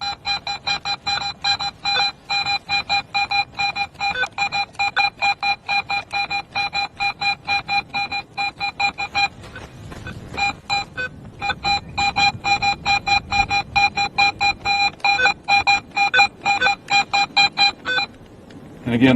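A Garrett metal detector in pro mode sounds a rapid string of beeping target tones, pulsing rhythmically as the DD coil is wiggled in a tight area, with a brief break midway and louder, denser pulses after.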